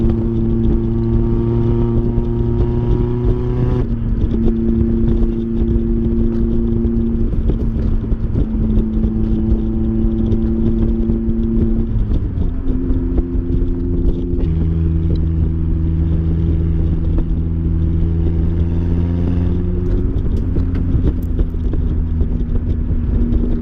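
Mazda MX-5 engine and exhaust note at a car meet, a loud steady drone whose pitch shifts between several held revs across the whole stretch, with no talking.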